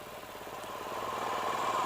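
A 1983 motorcycle engine idles nearby in a steady, even rumble that grows slightly louder, with a faint rhythmic pulsing and no talk over it.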